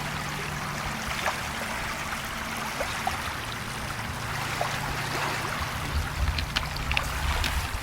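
Mountain Dew soda pours into a glass beside white grapefruit soda for a green St. Patrick's Day drink, giving a steady fizzing trickle that runs throughout with no talk.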